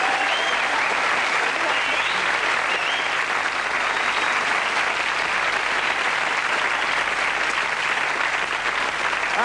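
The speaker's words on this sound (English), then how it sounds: "Can we have a round of applause?" Sustained studio audience applause, loud and even throughout, with faint voices underneath the clapping.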